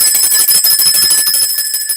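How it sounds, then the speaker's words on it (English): A bell rings continuously and loudly with a bright, rapid metallic trill filling the whole moment, no voices over it. "we gonna ring that motherfucking bell"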